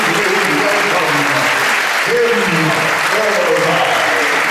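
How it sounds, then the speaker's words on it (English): Thunderous clapping from an audience at a Disneyland Haunted Mansion séance for the 40th anniversary, loud, dense and continuous throughout with a crowd murmur mixed in. "I believe some thunderous clapping from you will cause her to appear."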